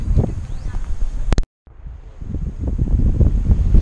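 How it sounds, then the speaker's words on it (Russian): Strong offshore wind during a sea storm buffets the microphone in loud, rumbling gusts, with a brief dropout in the middle and a voice speaking under the wind. "Ветер дует с берега."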